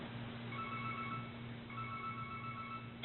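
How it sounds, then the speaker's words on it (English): A phone ringtone plays as two repeating electronic melodic bursts over a steady low hum. It sounds faint and slightly muffled, with no voices. "And it made me furious to hear that perturbing ringtone once more."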